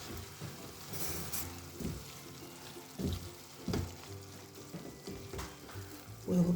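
Sausage and mushrooms frying in a pan, a soft steady sizzle broken by clinks and stirring scrapes at irregular intervals, close and moderately loud, with no talking.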